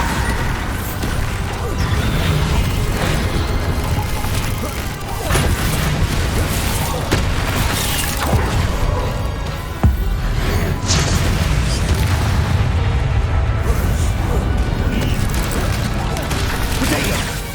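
Bombarda blasting spells cast in Hogwarts Legacy combat, loud booming and crashing impacts layered over a dense, constant game soundscape with shouted voices throughout.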